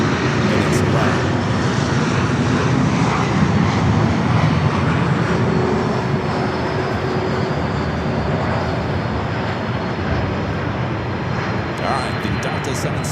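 A Delta Boeing 767-400ER jet lands at Los Angeles LAX, its engines giving a loud, continuous roar that fills the whole stretch, with a voice talking underneath.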